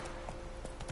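The horse Roach gallops in The Witcher 3, a brief run of quick, muffled hoofbeats under a steady background of game sound.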